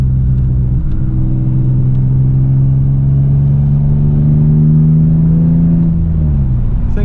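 Close, steady rumble of a 2002 Pontiac Firebird V6 with a manual gearbox, held at a constant drone during a rev match and then dropping away near the end.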